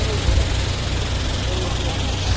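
A red Mahindra tractor engine runs steadily with a low, throbbing idle close by, continuous for the whole stretch, with some voice activity mixed in.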